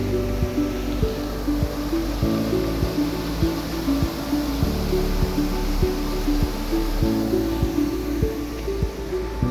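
A natural waterfall beside a wooden guest house in Neelum valley, Sharda, gives a steady, loud rushing roar of falling water that holds evenly throughout, with faint periodic ticking underneath.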